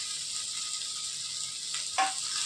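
Chicken pieces fry in a pan with a constant soft sizzle, joined by garlic, with a brief sharper hiss as more goes into the hot oil near the end.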